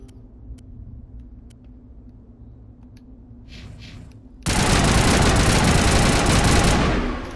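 Rifle fire in the Mass Effect video game: a few faint clicks and game ambience, then a sudden loud, sustained burst of automatic fire that holds for about three seconds before tapering off.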